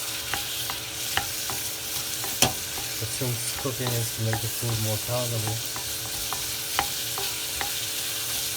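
Onions deep fry in a pan for a Kashmiri chicken yakhni, a steady hiss and sizzle with clinks of stirring throughout, while someone talks over it.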